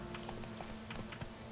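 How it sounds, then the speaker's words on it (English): Horse hooves clip-clopping at a steady riding pace in The Witcher 3, several soft thuds spread over a steady backdrop of game music and ambience, with no talking. "Come horse, come horse. Just ride him back."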